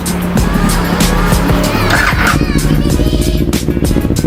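A 2021 Kawasaki Ninja 400 engine, slightly cold and showing about 38,000 km, runs up close with a loud, rough idle and throttle blips, someone talking briefly over it.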